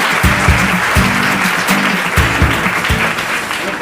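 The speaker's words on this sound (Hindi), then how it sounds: "जोरदार तालियां हो जाए भाई" Quiz show audience applauding a contestant who has just won a cash prize: dense, steady clapping filling the whole stretch with a few stronger bursts, loud and close, and no talking over it.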